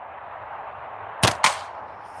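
A small slingshot firing 11mm steel balls: two quick sharp snaps in close succession over a steady background hiss, close and fairly loud.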